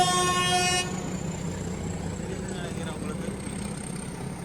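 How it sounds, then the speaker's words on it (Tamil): A train departs on the Coonoor to Ooty mountain railway, a steady horn-like harmonic tone sounding for under a second at the start, then a low continuous rumble of the rolling train over background noise. "அதுதான் ட்ரெயின் எம்டியாக போகுது, தெரியுதுங்களா?"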